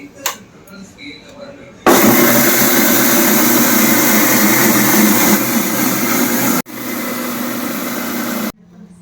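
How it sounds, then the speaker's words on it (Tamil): Mixer grinder grinding soaked rice with dried red chillies, garlic and asafoetida, a loud steady whirring roar that starts abruptly, drops slightly midway, cuts out briefly, resumes and then stops. "காஞ்ச மிளகா, பூண்டு, பெருங்காயம் இதெல்லாம் சேர்த்து அரிசியோடு சேர்த்து அரைச்சிடலாம்"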